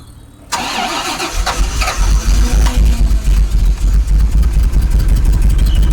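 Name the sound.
Rolls-Royce Silver Spirit engine cranking on a cold start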